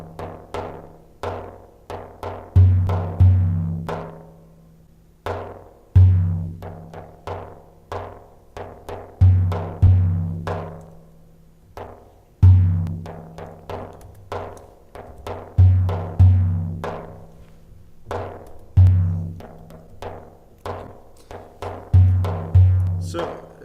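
Traditional Turkish percussion playing the velvelili variation of an usul rhythm, repeating cycles of deep dum strokes and sharper tek strokes in a clear, steady pattern, close and alone.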